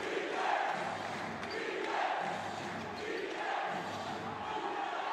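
A basketball arena crowd roars steadily through an MPBL game between Sarangani and Pampanga, a dense, continuous swell of cheering and shouts in waves, with an announcer's voice faintly woven underneath.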